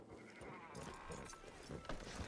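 Sheep bleat a few times amid busy, noisy Red Dead Redemption 2 game sounds, the calls short and wavering, mid-distance and partly buried in the mix.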